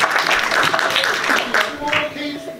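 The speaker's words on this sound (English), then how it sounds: "Let's have an applause." Scattered audience clapping at a panel discussion rises into applause, moderately loud, with voices mixed in over it.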